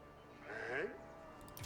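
Sheep bleat in a medieval strategy game, a single wavering call rising and falling over a steady low background hum, moderately loud and alone without talk.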